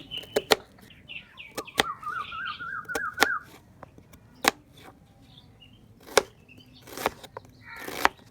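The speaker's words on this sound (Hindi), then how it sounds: "प्याज की हम चॉप कटाई करेंगे।" Knife chopping onion for a tomato onion raita: sharp, close cuts on a board come at irregular intervals, about a dozen strikes, with a brief whistle-like tone early on.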